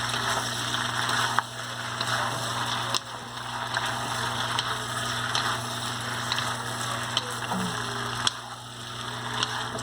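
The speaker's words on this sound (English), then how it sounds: "let's fry the meat" Beef frying in a pan for beef broccoli, a steady sizzling hiss alongside a constant low hum, with occasional clicks and knocks of utensils.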